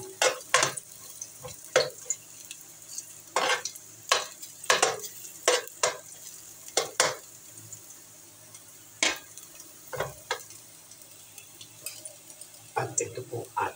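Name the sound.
cooking oil frying in a pan for tilapia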